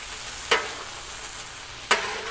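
Chicken taco filling cooks in a pan over a low burner with a steady close sizzle and two sharp stirring scrapes.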